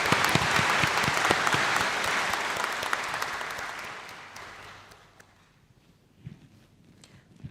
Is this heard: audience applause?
yes